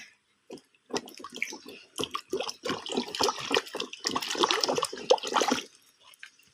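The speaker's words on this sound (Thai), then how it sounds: "ล้างดีๆกันค่ะ" Puffball mushrooms being washed by hand in water, with repeated splashing and sloshing bursts near and fairly loud, while voices talk over the washing.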